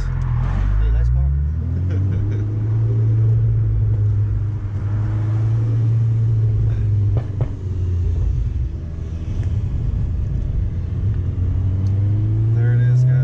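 A Stage 2 VW Golf R with a Forge diverter valve runs loud and close, its engine holding a steady low drone with a few light revs and rises in pitch, while voices talk over it.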